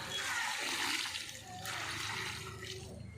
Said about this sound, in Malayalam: നമ്മൾ വെള്ളം ഒഴിച്ച് കഴുകാൻ പോകുന്നു